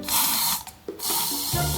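L'Oréal hairspray hisses onto hair in a long, close, steady spray, briefly pausing before a second burst, with a faint click partway through.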